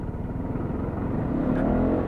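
A Lexmoto Aura 125 scooter engine is run up under hard throttle, revving up steadily with a rising whine and rough mechanical clatter, loud and close throughout.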